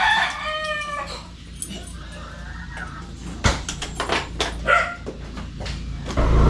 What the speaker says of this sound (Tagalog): Daming aso ni Tatay Ruping